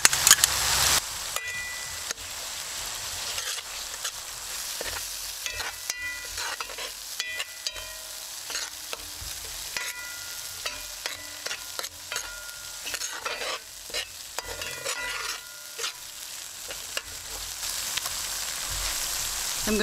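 Green seasoning frying in a pot for Trinidad curry duck, stirred with a utensil that scrapes and taps the metal in an irregular rhythm over a soft constant sizzle, close and fairly loud, with no speech.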